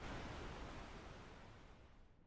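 Running water in the train-building game Railroads Online, a soft broadband wash of flowing water that fades gradually over a couple of seconds with no voices.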